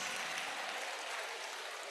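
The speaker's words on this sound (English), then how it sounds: "A round of applause" An audience at a university matriculation ceremony applauds, a faint, distant wash of clapping that stays even for two seconds with no voices.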